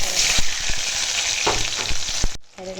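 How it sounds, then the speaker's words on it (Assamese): Onion, garlic and dried and fresh chillies drop into hot oil and fry with a loud, close, crackling sizzle and clicking stirs, then the sound abruptly cuts away near the end. "এতিয়া তেলটো গৰম হৈ আছে, ইয়াতে মই পিঁয়াজ, নহৰু, জলকীয়া, শুকান আৰু কেঁচা জলকীয়া,"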